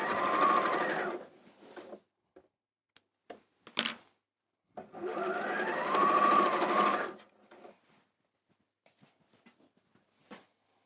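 A sewing machine stitches quilt squares in two long bursts, each run lasting a couple of seconds, with quiet handling clicks and taps between them.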